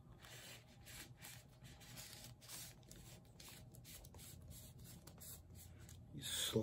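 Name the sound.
plastic poly-liner sliding into paper record inner sleeve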